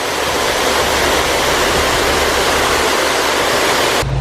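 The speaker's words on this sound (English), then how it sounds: "There's also a waterfall." A resort waterfall roars with a loud, constant broadband rush of falling water, close and unbroken for about four seconds before cutting off abruptly, with no voices over it.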